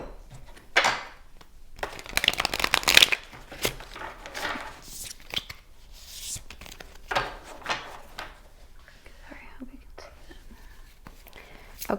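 A tarot deck is shuffled nearby in a series of soft, papery riffling bursts and card slaps, with quieter handling sounds between them and no speech over it.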